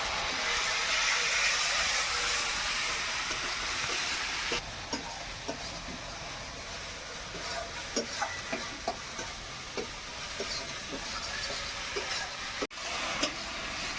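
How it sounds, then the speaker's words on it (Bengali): Spice paste sautéed with garlic, onion and turmeric in a pan gives a loud, dense sizzle that eases after a few seconds into softer frying with repeated scrapes and taps of stirring, with no talking. "মশলাটা দিয়ে বেশ ভালোভাবে কষিয়ে নেব, যাতে রসুন আর পেঁয়াজের গন্ধটা না থাকে।"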